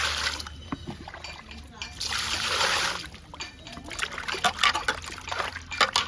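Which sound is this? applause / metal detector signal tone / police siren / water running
water running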